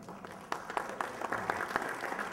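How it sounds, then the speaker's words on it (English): An audience at a Civil War roundtable talk on John Brown breaks into clapping, a moderate, fairly dense patter of hands that swells after a quieter start and carries on without voices. "I don't know why you're clapping"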